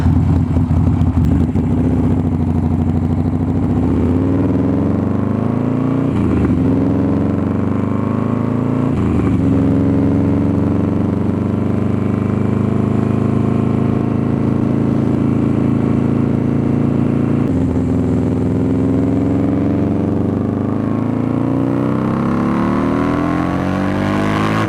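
A 2003 Buell XB9S, a Harley-based V-twin, rumbles steadily and loud through its exhaust while being ridden, the engine note holding a low, continuous drone with a few brief dips and rises in revs.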